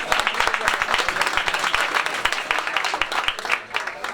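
Audience applause at a public gathering in Üsküdar, a steady wash of many hands clapping loudly and continuously, fading slightly near the end.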